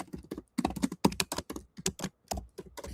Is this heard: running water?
no